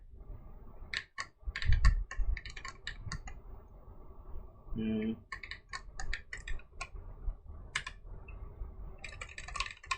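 Data entry on a computer keyboard in an HTML forms tutorial, with quiet, irregular bursts of key taps and brief pauses between them, close and soft.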